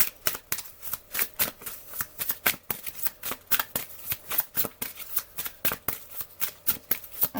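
Oracle cards are shuffled by hand in a fast, even rhythm of crisp riffling slaps, close and clear throughout with no talking.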